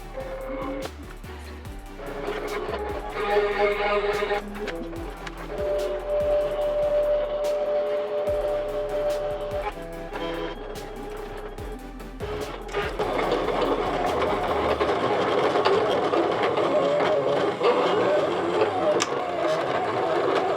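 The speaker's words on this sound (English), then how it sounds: "here's just a small clip of how the machine sounds and how it cuts" A sticker cutting machine slicing printed sticker paper, whirring motor with irregular clicks and a steady mechanical hum that grows louder and denser partway through, close by.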